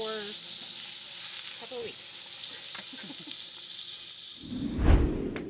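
Food sizzles steadily on a grill at a family gathering, a continuous close hiss with brief voices over it and a louder burst of crackle near the end.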